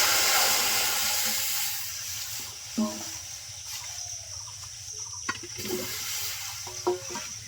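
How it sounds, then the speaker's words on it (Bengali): Water pours and splashes into a kadai for boiling, a steady hissing rush that runs through most of the stretch, broken by a few light clinks of the pan. "এখন সেদ্ধ করার জন্য কড়াইতে জল দিয়ে দিলাম"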